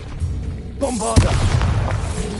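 A Bombarda blast spell goes off in Hogwarts Legacy, a deep booming explosion that bursts out after a short whooshing, rising magical build-up and rumbles on loudly to the end.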